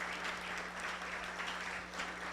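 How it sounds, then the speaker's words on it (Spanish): An audience applauds architect Martha Maccaglia at the close of a women's architecture conference, a steady, dense wash of clapping held at an even level throughout, with no voices over it. "pido, por favor, nuevamente un gran aplauso a la gran arquitecta Marta"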